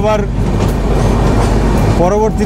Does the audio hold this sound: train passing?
yes